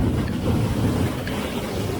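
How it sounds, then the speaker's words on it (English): A big ocean wave crashing on the rocks at a rock fishing spot on the Northern California coast, a steady, loud, broad roar of churning surf mixed with wind buffeting the microphone. "that is a big wave. That is a huge wave."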